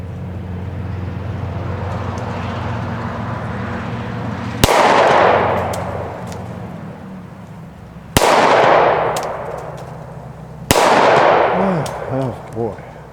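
Three sharp pistol shots from an old handgun fired outdoors, spaced a few seconds apart, each a loud crack trailing into a short echo, with quiet background before the first.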